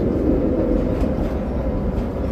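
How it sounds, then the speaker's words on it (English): Steady low rumble and rattle of a New Orleans streetcar heard from the back platform while it runs in reverse through the Garden District, continuous and close with no talking. "We're on the back of a streetcar here."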